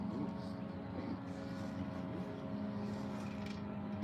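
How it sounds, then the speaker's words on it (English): A motorboat passes on calm water, its low, steady engine drone heard at a distance beneath faint ambient sound, holding even across the whole stretch. "Sounds like we got a boat coming our way though."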